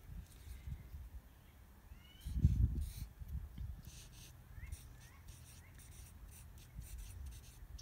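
Pen or pencil writing on paper, soft scratchy strokes in short uneven bursts, close but quiet, with a voice speaking over the start.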